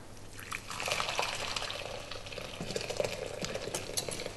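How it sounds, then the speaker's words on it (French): Hot water is poured and stirred into a homemade floor cleaner of soap and white vinegar, making a continuous close splashing, bubbling wash with small drips and clinks and no talk. "Après, j'introduis l'eau chaude."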